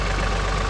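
A John Deere 3046R compact tractor idles steadily after a heavy snowfall, its engine giving a continuous, even, close rumble with a faint knocking texture and no voices over it.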